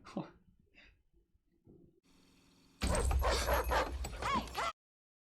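A dog yips and whimpers faintly, then a loud burst of harsh barking with noisy clutter runs for about two seconds before cutting off.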